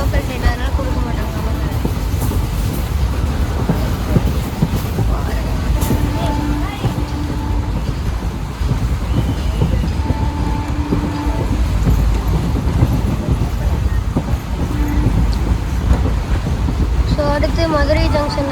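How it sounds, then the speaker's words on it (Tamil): Local passenger train in Tamil Nadu, India, bound for Madurai Junction, running steadily, a constant loud rumble with rhythmic rail clatter heard from inside the carriage, with talk and tonal sounds drifting over it. "ஸோ இது வந்து லோக்கல் ட்ரெயின்"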